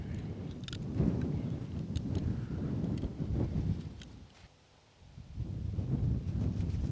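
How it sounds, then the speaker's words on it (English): Wind blowing outdoors buffets the microphone in a steady low rumble with gusts, briefly easing before picking up again. "This f***ing wind."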